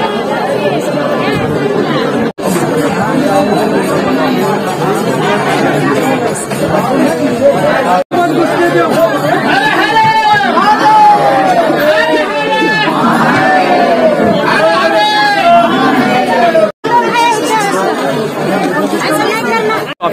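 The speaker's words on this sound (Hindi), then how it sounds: "काफी ज्यादा भीड़ आप देख रहे हैं" Large crowd of pilgrims at Badrinath temple in Uttarakhand, a dense, continuous babble of many voices with occasional louder shouts rising over the hubbub, close and loud throughout.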